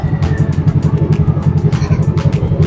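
A motorcycle engine idles loud and close with a fast, even, pulsing thump after being started to check a faulty fuel gauge, and no other sound intrudes.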